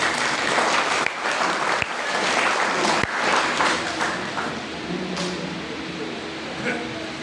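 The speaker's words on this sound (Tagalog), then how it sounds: "Pumalakpak ang lahat ng anak ng Diyos." A church congregation claps together throughout, a full, continuous wash of hands with scattered sharper claps and some voices mixed in.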